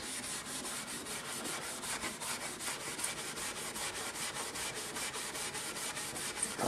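A 1920s Montgomery Regal instrument getting a French polish finish rubbed out with pumice, producing a steady, close abrasive rubbing that swishes back and forth in even strokes throughout.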